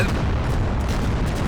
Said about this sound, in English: Look at the size of these explosions